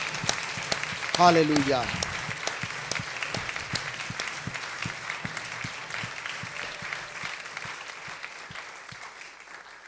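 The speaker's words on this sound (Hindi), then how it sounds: "Give a clap to the Lord." A church congregation claps for the Lord in a steady, brisk rhythm of many hands. The clapping goes on throughout and fades slightly toward the end, and a voice calls out once near the start.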